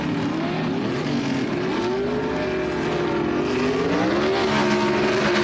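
Drag racing at the 1977 NHRA Gatornationals, Bill Jenkins' Monza against Warren Johnson's 1974 Camaro, both engines roaring loud and steady throughout, pitch climbing and wavering as the cars pull down the strip.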